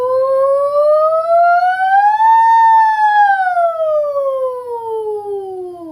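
A single voice imitates a siren as a singing exercise, gliding smoothly up in pitch and then slowly back down in one sustained, loud tone.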